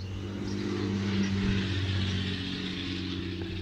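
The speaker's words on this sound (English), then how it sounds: "That was an S10, a very small truck that was that loud." A small Chevrolet S10 pickup truck roars past on a rural road, its loud engine note swelling and fading steadily over several seconds with no talking.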